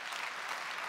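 A brief burst of dense applause from a crowd, steady and fairly soft, lasting under a second.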